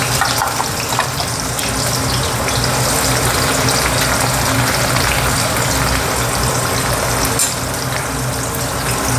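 Chopped onion sizzles in hot oil with mustard seeds and cumin for a guar bean curry, a dense, continuous hiss and crackle that stays loud and close throughout.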